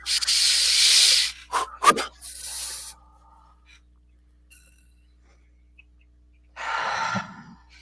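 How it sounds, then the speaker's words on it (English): A deep breath drawn in and let out during a guided relaxation session, a long breathy inhale followed by a few soft gasping sounds, then quiet before a second slower breath. "And everyone take a breath."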